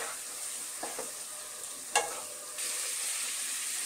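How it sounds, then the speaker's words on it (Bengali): Boiled potatoes and garlic being stir-fried with spices in a pan: a quiet, steady sizzle with a few soft stirring scrapes, the sizzle growing slightly louder near the end, with no talking. "আমি আলু মশলার সাথে একটু কষিয়ে নিয়েছি"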